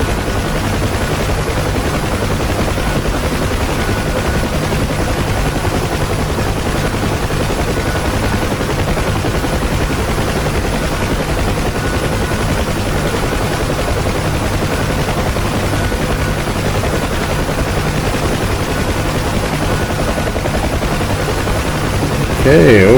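UH-1 Huey helicopter in the DCS flight game slowing and descending on approach to a runway, giving a steady, loud rotor and turbine drone that runs unbroken throughout, with a brief louder swell at the very end.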